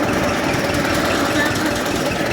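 A tractor engine runs steadily up close during straw stacking in heavy rain, a loud continuous rumbling drone with a faint knocking rhythm and no pauses.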